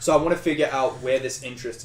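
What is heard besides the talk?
No everyday noise stands out behind the speech.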